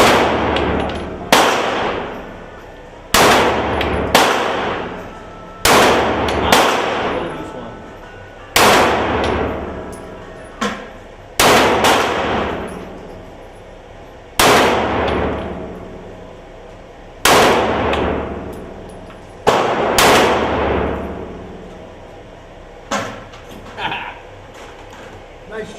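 Rifle shots at an outdoor shooting range, a dozen sharp loud cracks spaced a second or two apart, each trailing into a brief ringing decay, with occasional voices between shots.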